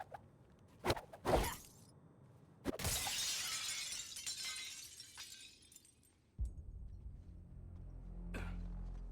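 Glass shatters in the Suicide Squad Kill the Justice League video game: a couple of sharp cracks, then a loud burst of breaking glass with a long scattering tail, followed by a deep rumbling impact.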